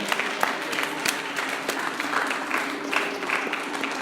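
Clapping from a church congregation during a Spanish-language worship service, dense and steady over about four seconds with scattered sharper claps, moderately loud and filling the room without clear speech.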